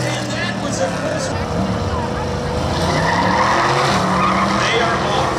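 Drag race cars launch at Seekonk Speedway in a loud, continuous roar of engines and tire noise that swells steadily, with an announcer calling the race over it.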